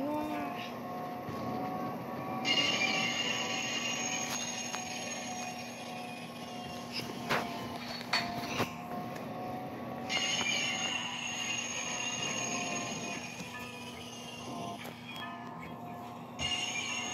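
A TGV Duplex double-deck high-speed train runs in the Train Sim World game, giving a steady rolling rumble with a high whine and bursts of wheel squeal, with a voice talking now and then over it.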